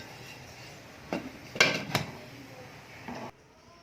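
Metal idli plates filled with batter set into a steamer and covered with a lid, a few clinks and clattering knocks, the loudest cluster midway, then a final clank before quiet.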